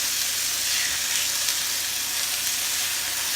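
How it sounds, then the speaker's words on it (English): Fish sizzles steadily in a hot pan, a dense, even frying hiss that holds at the same level throughout with no talk over it. "So put the fish in the pan"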